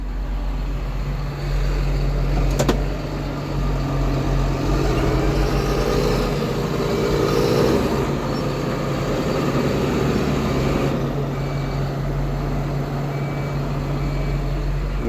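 Truck engine straining under load during a soy harvest in Rio Grande do Sul, a loud continuous low rumble that swells and holds, with a brief sharp clank partway through.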